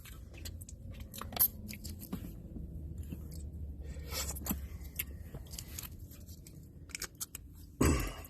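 Close, crunchy chewing of fried potatoes at a fish camp restaurant, with soft irregular bites and mouth sounds repeating for several seconds, and one louder crunch near the end.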